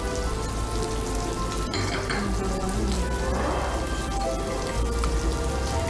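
Onions sizzling and frying in a pan alongside bell pepper during Malay home cooking, a steady crackling hiss with a brief louder burst midway, heard alone without talk.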